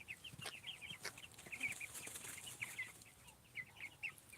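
Chickens on a farm cluck and chatter in a busy, overlapping stream of short calls at moderate distance, fairly faint, with no voices.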